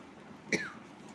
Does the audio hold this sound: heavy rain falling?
no